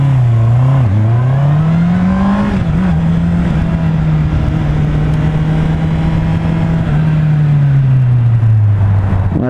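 A 2019 Honda CB650R motorcycle engine runs loud and close, holding a steady idle drone with a brief blip and a slow fall in pitch near the end, no talk over it.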